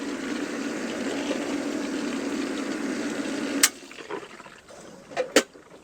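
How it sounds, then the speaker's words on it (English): A swimming pool pump runs with a steady, loud broadband whir and hum, then cuts off abruptly, leaving quieter background with a few sharp clicks and knocks afterward. "the first thing we'll do is turn off the pool pump"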